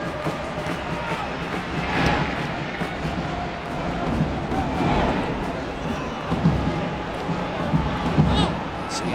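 A soccer stadium crowd of over 17,000 in Orlando, a steady roar of murmuring and shouting with swells, under a commentator's voice.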